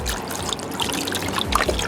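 Goya mojo marinade pours onto a leg of lamb in a short, close trickle of liquid with small splashes.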